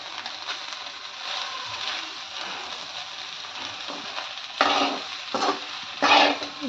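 Egg bhurji stir-fries in oil in a pan, with a continuous close sizzle under repeated spatula scrapes and stirs. A few louder, sharper scrapes come toward the end.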